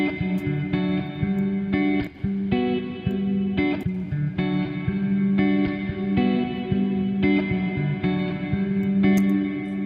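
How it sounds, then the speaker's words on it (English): A repeating musical phrase rings out through Ableton's native Reverb plugin on its high quality setting, with a lush, rich reverb tail, each note blooming and lingering into the next. "the high setting, the reverb is way more rich and it uses way more CPU"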